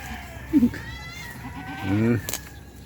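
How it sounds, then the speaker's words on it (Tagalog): Pet goats bleat twice, close and fairly loud, each cry short and wavering, over a low, steady outdoor background. "Tingnan niya mga kambing ko"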